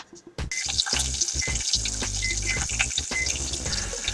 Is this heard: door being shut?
no